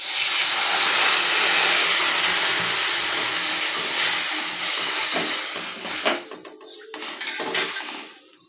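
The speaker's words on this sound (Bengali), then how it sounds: "এখন আমি ডালটাকে ধুয়ে নিব।" Mung dal lentils being rinsed in water in a home kitchen, a steady loud rushing wash with clinks of a metal pot, thinning toward the end into separate splashes and clatters.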